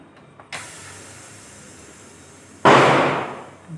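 A faint hiss runs steadily after a small click as a pressure cooker lid opens, then a loud burst of rushing steam erupts and slowly fades.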